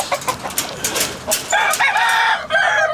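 Backyard chickens, including hens and a rooster, cluck and crow loudly and close by in an overlapping, busy barnyard chorus with no talk.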